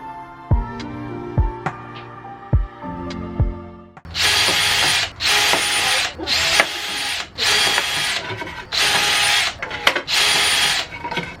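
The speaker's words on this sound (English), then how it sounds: "I'll take the pieces, I'll drill all the holes" A power drill bores holes into wooden boards, sounding as six or seven loud, whirring bursts of a few seconds each, separated by short pauses, after some quieter tonal knocks at the start.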